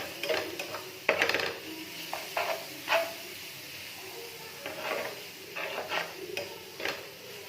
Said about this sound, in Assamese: এনেদৰে ভালদৰে লৰাই ল'ব।